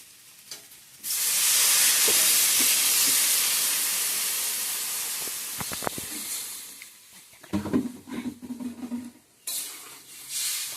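Water poured into a hot pan of fried food bursts into a loud, sudden steam hiss that slowly fades over several seconds, followed by scattered clinks and scraping of utensils in the pan.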